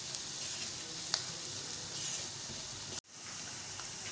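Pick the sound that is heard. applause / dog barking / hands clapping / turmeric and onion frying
turmeric and onion frying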